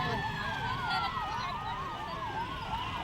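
Wailing ambulance sirens arrive at the scene of a factory blast in an industrial area, a loud rising-and-falling electronic wail sounding continuously and fairly near.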